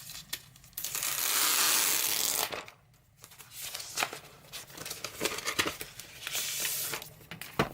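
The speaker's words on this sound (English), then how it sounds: "unwrap this plastic." Protective plastic is peeled and unwrapped from an iPad Pro 10.5-inch second generation, with close crinkling and rustling in irregular bursts, one longer continuous stretch and a brief pause.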